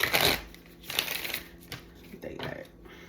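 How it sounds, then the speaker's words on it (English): Tarot cards are shuffled close up, with a riffling burst at the start and then softer shuffling and tapping in irregular patches. "Give me one more shuffle."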